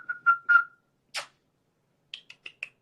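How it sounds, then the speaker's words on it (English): A person whistles several short notes to call a pet named Patty Cakes. Three quick tones come first, then a lone breathy burst, then four brief chirpy whistles at close range with quiet gaps between them. "you thought I was whistling at you"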